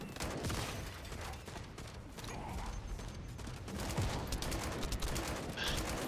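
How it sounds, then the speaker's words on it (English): Dense gunfire from many enemies in The First Descendant video game, steady overlapping shots and mechanical rattling filling the whole stretch at a constant level with no pauses. "I'm getting shot at from too many people."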